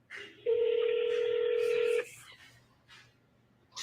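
A phone number being dialed, a steady tone lasting about a second and a half, followed by short quieter beeps, close and clear with faint background noise.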